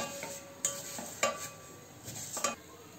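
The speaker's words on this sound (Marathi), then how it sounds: "पटापट ढवळायचं आहे" Vermicelli roasting in a pan for kheer is stirred briskly, with four sharp scrapes of the spoon over a faint sizzle, close but quiet.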